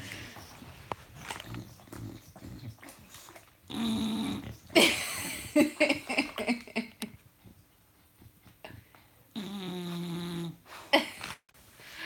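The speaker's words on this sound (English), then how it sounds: "it's only the big one that tends to snore his head off" A large dog snores heavily at close range, with rough, rumbling breaths that rise and fall unevenly over a quiet room and no one speaking.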